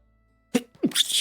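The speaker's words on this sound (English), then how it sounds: "Oh, I'm gonna sneeze." A single sharp human sneeze, close and abrupt, preceded by a short inhale and trailing into a breathy hiss, after a brief silence.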